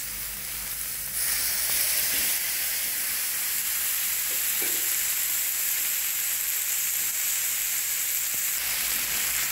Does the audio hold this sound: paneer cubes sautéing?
yes